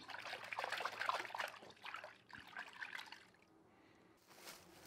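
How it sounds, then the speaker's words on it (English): Liquid dish soap trickles and pours into the water of a yellow jacket trap, a soft, close dribbling splash that comes in a few uneven bursts and then tapers off near the end. "The last and really important part of this trap is to add some liquid dish soap."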